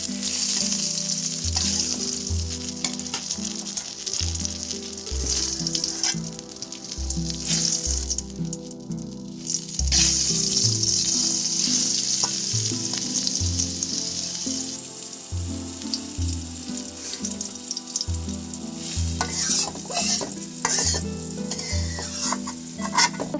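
Eggplant slices frying in oil give a strong continuous sizzle with occasional stirring scrapes. A low rhythmic hum or music runs beneath the sizzle throughout.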